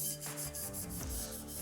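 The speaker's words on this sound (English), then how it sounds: "And as you see, I started sanding." Steady, continuous rasping of sandpaper scrubbing against rusty metal, close up, with no pauses or talk.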